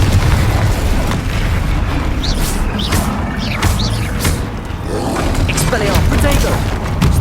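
Confringo blasting spells explode in a Hogwarts Legacy troll fight, with booming blasts and bursts repeating over several seconds through a dense, loud battle din; some voices may be mixed in.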